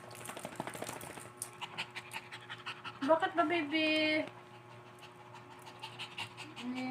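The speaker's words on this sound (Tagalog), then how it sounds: "Iniingal yung aso ko." A pet dog pants and whimpers in a room during a home hair rebonding session, with short whines rising near the middle over steady panting, while someone speaks softly to it and a hair blower hums in the background.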